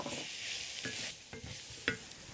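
Dry spices (crushed coriander, garam masala, chili powder and turmeric) frying in a pan for a North Indian chicken curry, with a steady close sizzle and a few scraping stirs of a utensil, no talking.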